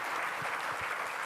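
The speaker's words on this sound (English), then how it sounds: "join in a round of applause" Audience applause fills a business conference on commercial real estate, a steady, dense wash of clapping throughout without pauses.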